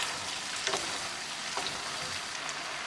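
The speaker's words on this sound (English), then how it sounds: "Mix it well." Vegetable pasta with parsley flakes is stirred in a hot pan. A steady sizzle runs throughout, with a few soft scraping stirs rising above it. The sound is close and fairly loud, and no one talks.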